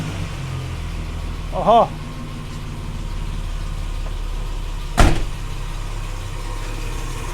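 A Nissan GQ Patrol engine, just fitted with a replacement cylinder head, idles at a steady low rumble close by. A short voiced exclamation cuts in, and a sharp knock or bang sounds partway through.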